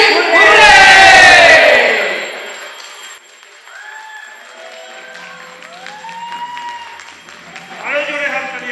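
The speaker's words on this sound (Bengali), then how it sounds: "আরো জোরে হাততালি, আরো জোরে হাততালি।" An audience at a hilarious Bengali stage drama breaks into loud cheering and clapping, a roaring burst that fades after a couple of seconds into scattered murmurs and calls from the crowd.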